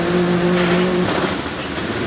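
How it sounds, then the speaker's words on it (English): A Gould GR59 hillclimb race car with a 4-litre Judd engine launches off the line with a loud, close engine roar. A steady high note breaks off after about a second into a rough, rushing blare. "4-litre Judd engine."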